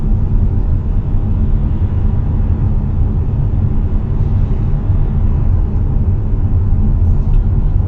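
A car driving in third gear, heard from inside the cabin as a loud, steady low engine and road rumble that holds even throughout, with no talking.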